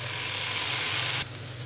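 Onions frying in a pan hiss with a steady bright sizzle that shifts and softens partway through as a tablespoon of soy sauce goes in, close and continuous with no voices.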